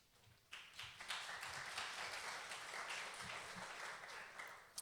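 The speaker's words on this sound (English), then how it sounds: "It's good to have applause up front" Audience applause breaks out at a conference talk on service-oriented web development with OSGi, a dense burst of clapping that swells quickly and holds steady for several seconds before thinning at the end.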